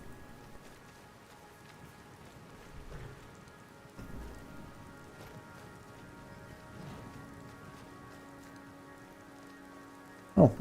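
Steady rain falls in the video game Skyrim, a soft, even patter that runs throughout, with a few faint low thuds and one brief louder knock right at the end.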